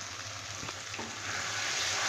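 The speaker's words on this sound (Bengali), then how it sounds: "অল্প একটু জল দিয়ে ভালো করে মশলাটা কষে নেব" Spice paste with chili powder and a little water fries in a pan for chicken kadai, a steady hiss of sizzling with a soft stirring scrape, growing slightly louder toward the end.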